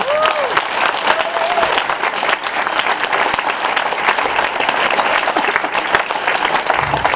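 A church congregation at a Christian concert breaks into loud, sustained applause for the Lord. Dense clapping fills the whole stretch, with faint crowd voices mixed in.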